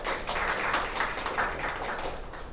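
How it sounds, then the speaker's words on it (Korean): An audience applauds at the 2024 Seoul Housing and Communities Corporation empty-house idea contest award ceremony, a full, continuous round of clapping with slight swells, heard alone. "큰 박수 부탁드리겠습니다."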